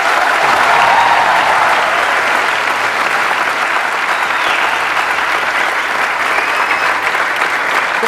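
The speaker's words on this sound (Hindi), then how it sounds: "तो एक लेवल है तालियों का," A live audience at a stage talk claps in steady, dense, loud applause that fills the whole stretch without pause, with a faint murmur of the crowd underneath.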